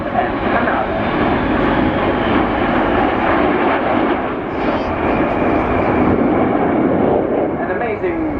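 Frecce Tricolori Aermacchi jets flying in close formation at the RIAT air show roar loudly and continuously overhead, a dense engine rumble with a slight swell midway, with a voice talking over it.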